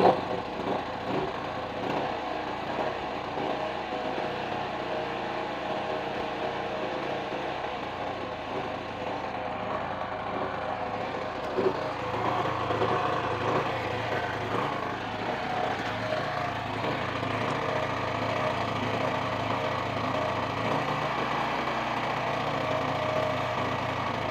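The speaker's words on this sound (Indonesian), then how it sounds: "Jadi kita nunggu mesin panas." A small portable generator engine, a Sumura ET2500C, drones steadily and continuously while warming up, a close, even mechanical hum with slight fluctuations and no talking.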